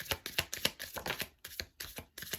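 Tarot cards are shuffled close up in quick rhythmic riffles, about eight crisp bursts with short pauses between them, and no voice.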